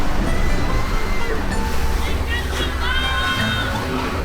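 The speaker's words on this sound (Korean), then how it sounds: "와, 저기 파도 봐. 파도 미쳤다." Strong Pacific surf pounds a Mexican beach where the ocean meets the Sea of Cortez, a loud continuous roar and wash of breaking waves close by, with people talking excitedly over it.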